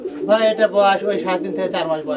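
Lahori pigeons coo in low, throaty, repeated rolls, close and fairly loud, with no talking.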